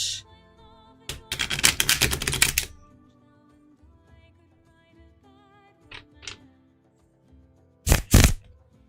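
Playing cards are shuffled in a loud, rapid riffle burst, then after a quiet stretch a brief second riffle and a short snap, with no one talking.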